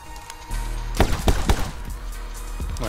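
Several sharp gunshots crack out in quick succession from the video game My Friend Pedro, close and loud over a steady game music bed.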